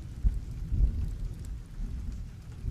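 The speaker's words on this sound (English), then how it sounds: "thunder in the back. Can you hear that?" Low thunder rumbles in the background of a rainy storm, soft rolling swells rising and falling under faint steady rain, with no one speaking.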